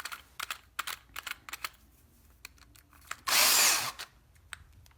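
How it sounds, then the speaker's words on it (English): A dull drill bit bores into a plastic 1/64 scale model truck part in one short, loud whirring burst, surrounded by scattered clicks and handling taps. "So, let's see which dull drill bit will work the best."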